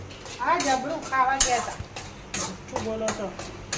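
A spoon scrapes and stirs sukhdi around a pan in a home kitchen, with repeated scraping strokes and light clinks, while voices talk over it.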